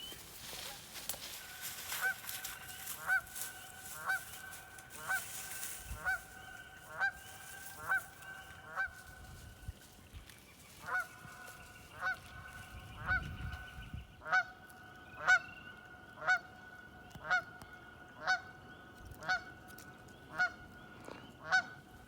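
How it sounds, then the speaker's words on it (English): A goose near a beaver pond in spring woods gives a long series of evenly spaced, clear honks, fairly close and loud, continuing steadily with a short pause midway. "Here comes a goose."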